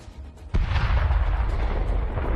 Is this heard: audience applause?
no